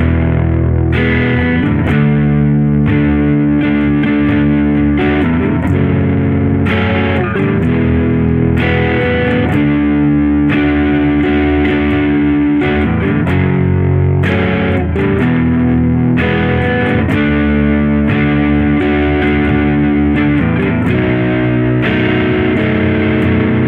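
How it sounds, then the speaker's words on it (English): A loud, distorted electric guitar loop repeats steadily with chorded strums and effects, dense and continuous throughout. "I will play this backing track so you can hear what it sounds like"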